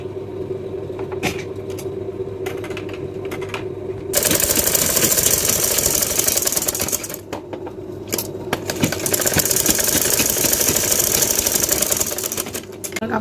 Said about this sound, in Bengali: এখন টুকরোটাকে এই জায়গাতে একটা সেলাই করে নেব এইভাবে বাজ করে